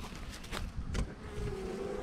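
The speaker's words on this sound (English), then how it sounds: "lots of bees" Italian honeybees buzz steadily in a beehive, a dense close hum with some louder pulses of wing noise and rustling throughout.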